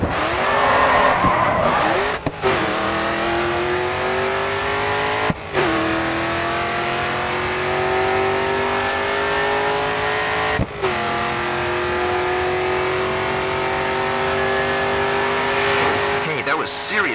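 Racing car engine at full throttle in the game GRID 2, a loud sustained roar climbing steadily in pitch through each gear, broken by three quick upshift cuts, with tyre noise beneath.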